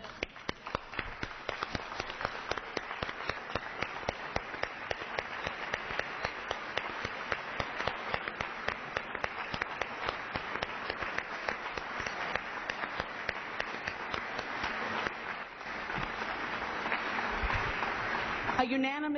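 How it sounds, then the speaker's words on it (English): Lawmakers in the House chamber give sustained standing applause, dense rhythmic clapping that runs steadily for many seconds and swells slightly near the end, with some voices underneath. "I think that it's befitting if we all stand and clap"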